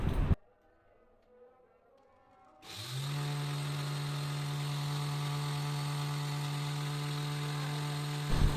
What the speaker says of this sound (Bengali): এভাবে আরও কয়েকবার গুঁড়ো করব যাতে করে একেবারে মিহি দানা হয়ে যায়